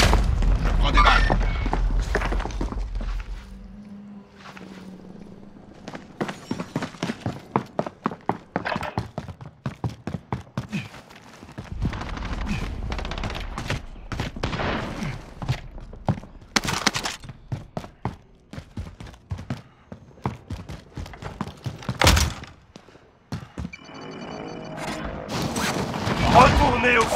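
Gunfire in Warzone, scattered sharp shots and heavy booms arriving in irregular clusters, some close and loud, others more distant, with a deep rumble at the start and bursts of rapid fire later.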